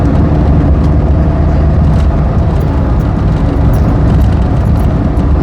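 A car in Gran Turismo runs over a bumpy road test track on standard suspension, producing a steady, loud engine and road rumble that holds without a break throughout.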